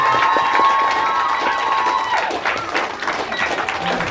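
An audience at a kindergarten graduation claps and cheers loudly for the school staff. The applause is dense and sustained, with children shouting and scattered voices mixed through the crowd noise.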